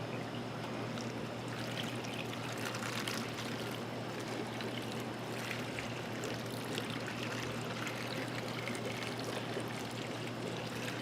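Water conditioner poured from a bottle onto live worms for aquarium fish food, a steady close trickle and splash over a constant low hum.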